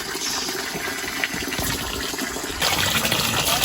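Cold mountain stream water gushes down from a hill on a South Indian trekking trail, a steady, close rushing flow that grows slightly louder toward the end.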